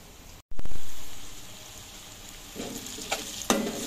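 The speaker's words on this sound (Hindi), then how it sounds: "मसाले को अच्छे से हम भून लेंगे।" Spices (salt, cumin powder, red chili flakes and chili powder) hit hot oil in a pan for beef aloo keema with a sudden loud burst of sizzling that eases into steady frying, with a couple of stirring scrapes near the end.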